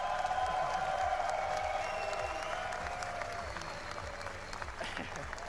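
A crowd applauds and cheers continuously, a dense wash of clapping with some raised voices, fairly distant and steady throughout.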